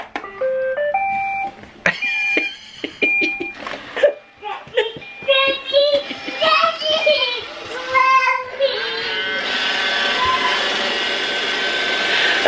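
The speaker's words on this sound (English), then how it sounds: "I'm gonna start Roomba, okay?" A Roomba robot vacuum cleaner starts with a series of tonal beeps and chirps, then settles into a steady whirring hum, while children chatter nearby.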